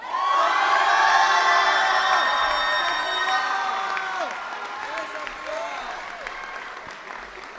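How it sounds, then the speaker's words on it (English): Audience applause for graduates at a high school graduation ceremony, a loud sustained wash of clapping with cheers and whoops that gradually fades. "how about one more big round of applause for our 2026 SST graduates"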